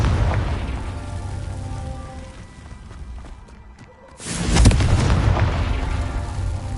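In Hogwarts Legacy, a Confringo fire spell explodes in a deep, rumbling boom after a roaring, crackling buildup, loud and close, with the blast hitting midway and its roar sustaining to the end.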